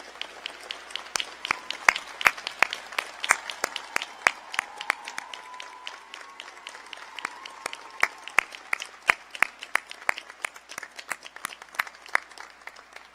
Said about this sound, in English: Graduates and guests, please join me in giving our faculty a much-deserved round of applause.